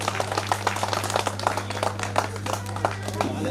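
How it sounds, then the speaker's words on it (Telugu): Classmates at a school reunion for the 1988–1989 SSC batch of ZPHS Chandhupatla clap in a quick, uneven patter, mixed with a low steady hum and some murmured talk in the room. "క్లాప్స్."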